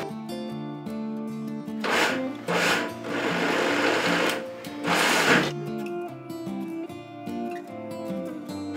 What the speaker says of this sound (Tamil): அதை வந்து நீங்கள் மிக்சியில் போட்டு 1 பல்ஸ் போட்டு எடுத்துருங்க